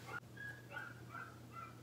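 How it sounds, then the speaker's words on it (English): Small dogs at home let out a series of soft whimpering yips and short barks, about five brief cries at a steady pace, fairly quiet and somewhat distant over a low constant hum. "hear lots of barking"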